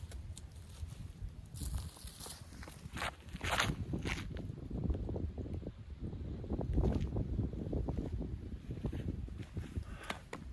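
Gusty wind sweeps across the Ski Point disc golf course at Lake Carl Blackwell, a steady low rumble buffeting the microphone for the whole stretch, with light scuffing steps mixed in and no talking.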